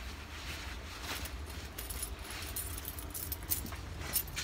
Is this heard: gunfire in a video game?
no